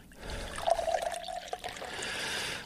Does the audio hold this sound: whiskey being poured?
yes